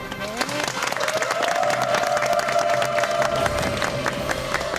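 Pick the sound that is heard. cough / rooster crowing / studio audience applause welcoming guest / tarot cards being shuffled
studio audience applause welcoming guest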